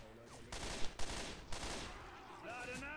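Bursts of rapid combat rifle fire in Left 4 Dead 2 crackle in quick succession, with a few sharper shots standing out over a constant background.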